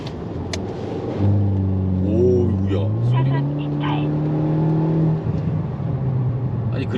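A Mercedes C43 engine in sport mode revs up on a highway, its pitch rising and shifting through a gear change, a steady loud drone filling the cabin with faint speech underneath.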